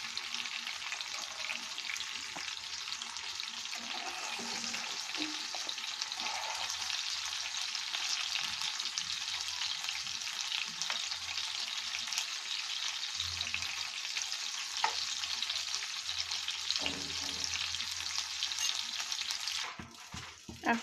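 Eggplant, pointed gourd and tomato fry in an oiled pan for a mashed eggplant dish, giving a steady, close sizzle for the full stretch with occasional stirring scrapes and no voices.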